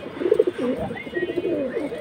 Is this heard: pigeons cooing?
yes